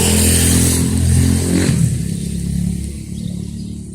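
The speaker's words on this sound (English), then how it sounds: "Look at this guy on his dirt bike." A dirt bike's engine roars loudly nearby, then fades as it passes and moves away.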